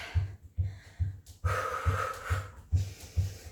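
Heavy, rhythmic breathing during a running-pace cardio workout, with regular sharp inhales and loud exhales about every half second, close and alone with no talk.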